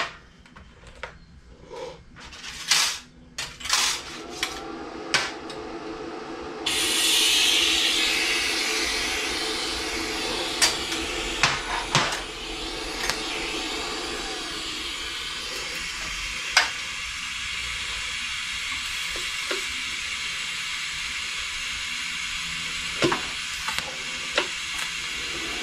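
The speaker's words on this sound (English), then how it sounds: "Now we're just going to weld the caps all the way around." Welding caps onto the steel legs of a classic Mustang body jig: a steady crackling, sizzling arc runs for several seconds after a few short starts, then fades into scattered pops and ticks.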